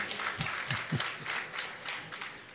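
Audience at an evening menzuma gathering applauding in a brief, steady burst of clapping with a few sharper individual claps near the start, no talking over it.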